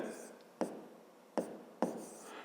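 A pen scratches out a math solution by hand, with soft continuous scraping broken by three sharp little taps, close and quiet.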